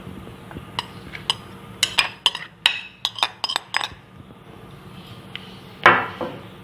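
Utensil clinks and taps against a bowl while chopped vegetables are mixed into aloo chana boondi chaat, a scattered run of sharp knocks followed by one louder scrape near the end.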